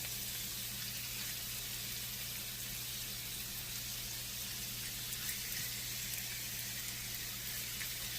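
Chicken pieces fry in a skillet with a steady, low sizzle held at one level throughout, soft and unbroken, with no voices over it.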